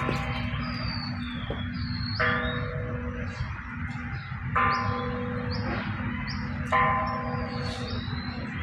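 The large World Peace Bell rings several times at slow, regular intervals, each strike leaving a lingering hum over a steady low background rumble; birds chirp faintly.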